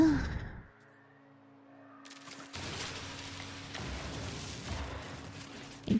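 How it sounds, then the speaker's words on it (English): A person lets out a long, breathy yawn close to the microphone, with a quiet steady hum and soft game-like ambience underneath. "I can't help it, I gotta yawn."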